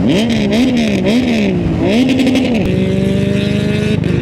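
A Triumph motorcycle with an aftermarket exhaust revs loudly up and down in repeated bursts, a raw, throaty exhaust roar, then settles into a steady, rumbling idle.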